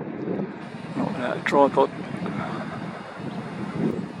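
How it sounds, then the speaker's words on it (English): Wind buffets a handheld microphone outdoors in open fields, a constant rough low rumble that stays loud throughout while someone briefly speaks over it. "Wind's getting up as well"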